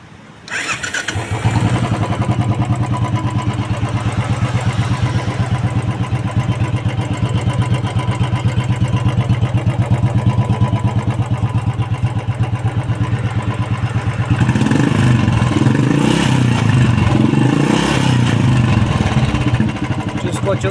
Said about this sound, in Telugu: ఒకసారి మనం స్టార్ట్ అయితే చూసుకుందాం.